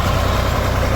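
A tractor-driven fodder chopper machine for cutting livestock feed in rural Azad Kashmir runs with a loud, steady low engine drone and a dense even rumble, close and continuous.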